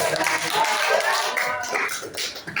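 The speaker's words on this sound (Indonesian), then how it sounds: "Tepuk tangan dulu dong" Applause from a classroom audience after a student group presentation, a dense patter of clapping lasting a few seconds with voices chattering over it.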